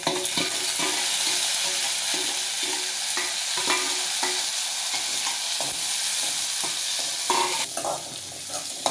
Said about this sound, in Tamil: நல்லா நெய்யிலேயே நல்லா வந்து வதங்கட்டும்